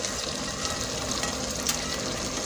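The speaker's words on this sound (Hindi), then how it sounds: "अब मैं ये वाला जो तड़का इसके अंदर शामिल कर दूँगी" Hot ghee tempering sizzles steadily as it is poured into cooked mutton, a continuous close crackling hiss with small pops and no talk.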